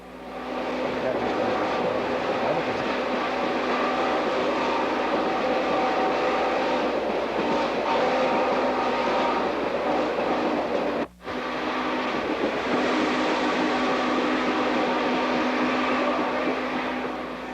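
N&W 611 passenger train rolling along the rails, a steady loud rumble and clatter filling the ride continuously with a brief dropout near the end, voices faintly mixed in.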